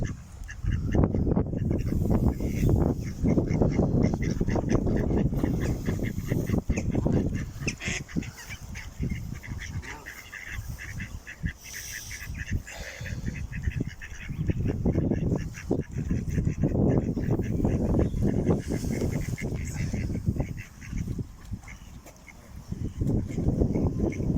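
A flock of ducks and geese at Shibdon Pond Nature Reserve honk and quack continuously, loud and close, with overlapping calls and splashing clamor.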